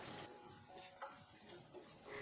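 Eggs stirred and fried in a pan with onions for a spicy Kerala egg stir-fry: a soft, faint sizzle with light scraping stir strokes, close and steady, with no talking.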